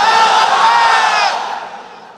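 A large crowd at a religious sermon roars takbir in unison, one loud, sustained collective shout that swells and then fades away.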